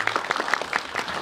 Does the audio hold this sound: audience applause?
yes